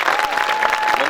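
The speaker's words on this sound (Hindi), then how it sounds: "एक बार उनके लिए तालियां बजाइए" Audience applause for Manjeet at a night kavi sammelan poetry gathering at Swami Keshvanand educational institute, a dense, steady wash of clapping filling the whole moment without a break.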